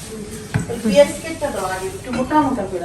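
A pot of cooked lentil dal is lifted off a stove in a village home kitchen, with a metal clank, scraping and a soft sizzle close by while someone talks.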